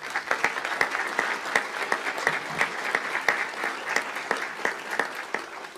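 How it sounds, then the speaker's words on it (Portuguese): Steady applause from a tribunal audience honoring a newly named ombudswoman, a moderate crowd clapping continuously with distinct sharp claps standing out, heard at a medium distance. "Eu peço a ela, então, uma salva de palmas."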